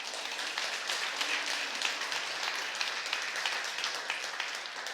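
A church congregation applauds, a dense continuous patter of hand claps heard from the midst of the crowd, fairly even in level throughout.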